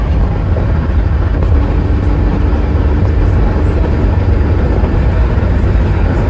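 Steady loud road and engine rumble from inside a 2009 Chrysler Town and Country minivan cruising after an EGR valve repair, continuous and even with no talk.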